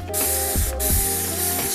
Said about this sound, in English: I'm just gonna take a little Dawn power wash.